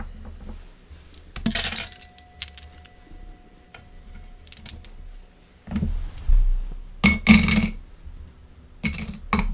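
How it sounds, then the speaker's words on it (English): Dice being put away during a tarot reading, a few bursts of hard clicking and clattering as they are gathered and dropped into a container, separated by quiet pauses, close by. "let me put these dice away"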